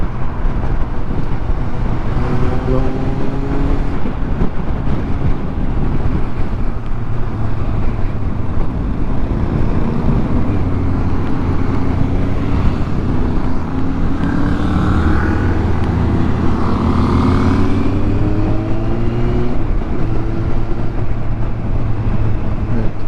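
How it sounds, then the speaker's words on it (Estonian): Many motorcycles and cars ride together in dense traffic around Kallavere, a steady loud blend of engine drones and wind rush with rising and falling tones as vehicles pass close by, continuous throughout with no talk. "Siin Kallaveres pole vist enne nii palju tsikleid korraga nähtud."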